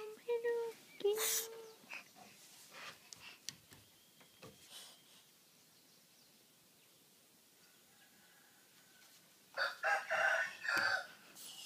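Rooster crows loudly at the start and chickens cluck in short bursts, with a quieter stretch in the middle and a louder flurry of clucking and squawks near the end; a voice speaks briefly over it.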